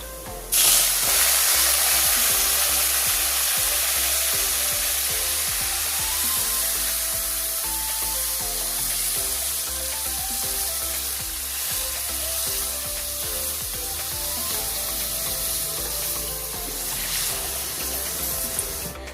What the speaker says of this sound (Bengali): জলটা আমি আগে থাকতে গরম করে নিয়েছিলাম এবার আমি এর মধ্যে দিয়ে দিচ্ছি